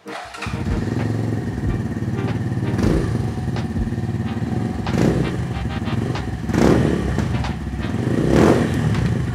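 Brixton cafe racer motorcycle fitted with a Cardinals aftermarket exhaust, its engine running loud and steady close by, with repeated throttle blips swelling the sound every couple of seconds.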